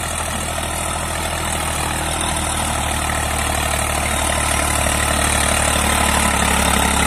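A New Holland 3230 42 HP tractor engine works under load pulling a 7ft rotavator, a loud, steady low diesel drone that holds constant throughout with no pauses.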